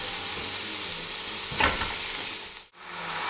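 Pieces of lamb sizzle and fry in a hot pan, a steady bright hiss that flares when they are stirred and briefly cuts out near the end. The sizzling is close, with no talk.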